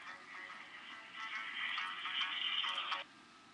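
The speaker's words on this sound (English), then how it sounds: "my cell phone." A cell phone rings indoors, a steady electronic ringtone lasting a few seconds before cutting off abruptly, moderately loud with no talking over it.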